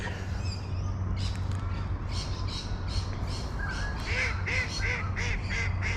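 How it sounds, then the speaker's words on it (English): Ducks gather by a small urban pond in Sydney, quacking and squawking repeatedly at close range. The calls come in irregular bursts over a constant low background hum. "I think these ducks are following me, eh?"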